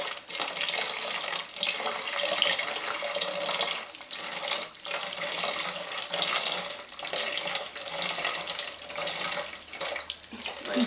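Water poured from a container over a model mountain in a small erosion demonstration, a continuous close splashing and trickling stream, like running tap water, with brief dips as the pour shifts.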